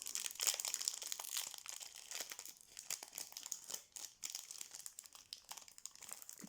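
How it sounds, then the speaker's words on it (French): Foil wrapper of a Pokémon card booster pack crinkling and tearing as it is torn open, close and fairly quiet, a steady run of crackly rustles with no talking. "Donc 6e booster."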